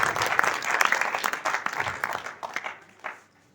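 Audience applause at a motivational speech event in Ludhiana, Punjab: a room full of steady, fairly loud clapping for about three seconds, thinning out and tapering away at the end.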